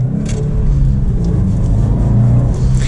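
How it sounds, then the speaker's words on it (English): A 2020 Subaru WRX STI Limited turbocharged engine rumbles low and loud as it accelerates, with a steady throaty roar and faint whooshing hiss above it. "So let's get a little acceleration here going with the STI."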